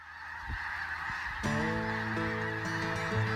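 Snow geese honking during their migration, a dense chorus of overlapping honks that thickens partway through into a loud, continuous clamor of many birds close by, with no voices.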